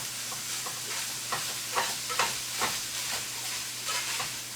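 Onion frying in olive oil with lean 90-10 ground beef, a steady sizzle broken by rhythmic scraping stirs about twice a second, near and moderately quiet.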